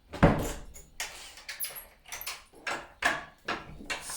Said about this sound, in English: I'm going to close the door like these two.